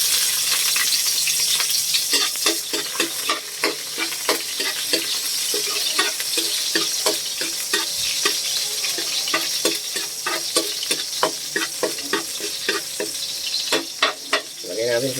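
Ingredients sauté in a pan for a Filipino ginisa dish, with a loud, steady sizzle broken by frequent sharp scraping strokes of stirring and a faint trickle of water, close by and with no voices.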